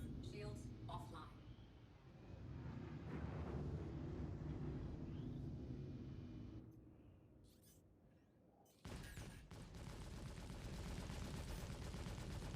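Spaceship guns firing at a ship's wing in Star Citizen, quiet continuous bursts of gunfire mixed with engine and combat noise, with a player talking over it.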